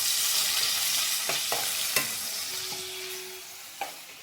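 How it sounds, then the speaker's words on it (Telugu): Upma frying in a pan with a steady hiss of sizzling throughout, punctuated by a few sharp scrapes and knocks of a spoon stirring the mixture, close and alone with no talking. "నేను ఉప్మా చేస్తున్నాను."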